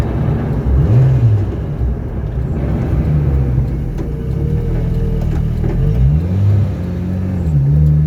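A 330+bhp Citroen Saxo VTS Turbo driving on a road with a loud, steady engine drone, rising in revs in a few swells as it accelerates and eases off. No voices.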